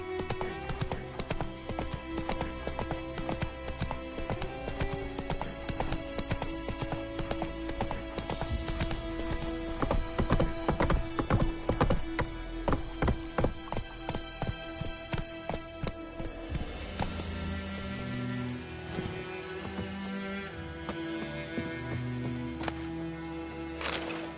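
Roach, a horse in The Witcher video game, gallops in a fast, loud, rhythmic run of hoofbeats that continues throughout and eases toward a trot near the end, with a faint whinny.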